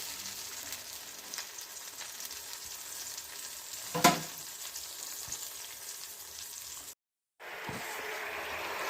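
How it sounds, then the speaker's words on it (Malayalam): Tamarind fish pickle bubbles and sizzles softly in a pan as its water boils off, a faint steady frothing hiss with one brief louder clatter, no talk. "ഈ പത പതഞ്ഞ് പതഞ്ഞ് ശബ്ദം കേട്ടല്ലോ വെള്ളം കിടക്കുന്നെന്ന് ശബ്ദം കേൾക്കുന്നത്"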